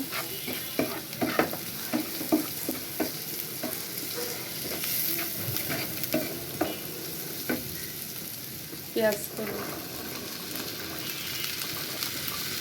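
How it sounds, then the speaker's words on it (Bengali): Onion scapes fry in a pan with salt and turmeric, a steady close sizzle broken by repeated scraping clicks and knocks of stirring, with no voices. "এটা ভাজা হয়ে আসা পর্যন্ত নাড়াচাড়া করে ভাজতে হবে।"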